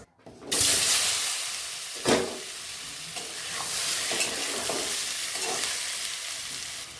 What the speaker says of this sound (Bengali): এবার আমি এই মাছ ভাজা তেলের ভিতর দিয়ে আমি ভেজে নেব